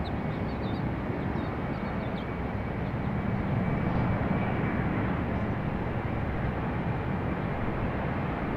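A jet airliner at Raleigh-Durham International Airport gives a steady, broadband engine roar that holds loud and constant throughout, with no voices.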